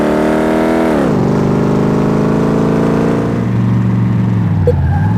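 Customer's car in Car Mechanic Simulator 2018 on the test track, a loud, steady engine drone that drops in pitch after a second, then holds and climbs slightly as the car moves off.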